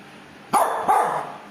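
A dog barks twice close by indoors, two sharp, loud barks less than half a second apart with a slight ringing tail, and no talk over them.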